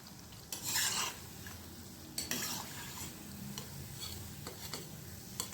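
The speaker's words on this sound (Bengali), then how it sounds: "এবার উল্টে পাল্টে লাল লাল করে ভেজে নিচ্ছি।" Onion pakoras turned over in hot oil, a steady low sizzle with a few sharp scraping and clinking spatula strokes against the pan, moderately quiet and close, no voices.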